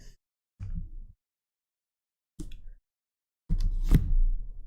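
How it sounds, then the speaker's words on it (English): A book handled on a desk: a few short soft thumps and rustling knocks separated by silence, close and fairly quiet, with no talking. "That's the sound of the book right there."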